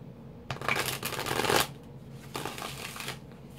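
Tarot cards are shuffled by hand close up in two riffling bursts with a short pause between them, crisp papery flutters in a quiet room.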